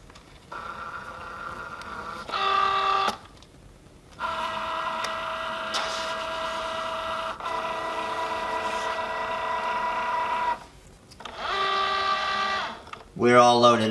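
A Cricut Joy cutting machine loads a sheet of Magic Flock template material, its motor whirring in steady bursts with short pauses between feed and cutting passes, close and fairly loud.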